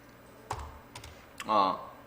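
A computer keyboard gives three separate keystrokes, close and fairly crisp, and a short burst of voice follows right after.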